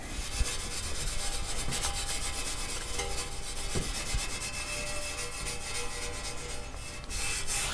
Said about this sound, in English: we are going to use some super fine steel wool, and let's shine these up